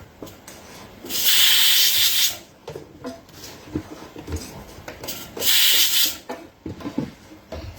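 Mango pickle being stirred together with roasted fenugreek powder, heard as two loud rasping scrapes about a second long each, separated by quieter clicks and knocks.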